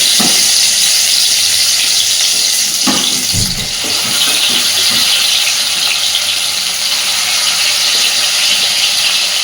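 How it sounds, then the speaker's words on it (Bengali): Paneer pieces fry in oil with spice masala over a low gas flame, a loud, continuous bright sizzle that stays steady throughout, with a few soft knocks early on. "এইবার আস্তে আস্তে পনিরের পিসগুলোকে এই তেলের মধ্যে বসিয়ে দেবো"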